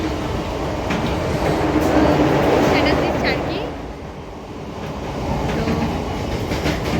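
Inside a nearly empty train carriage on a winter night, a continuous loud rumble and rattling clatter of the moving train runs throughout, with a few brief spoken words over it.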